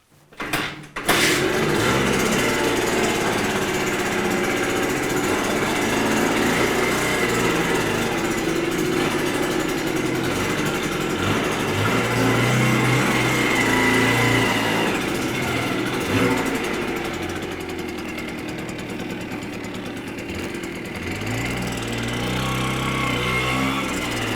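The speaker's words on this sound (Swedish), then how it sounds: "Vi ska se om denna startar med då," A small engine catches after a brief clatter and then runs steadily, a loud continuous close drone with slight fluctuations in pace throughout, with no voices over it.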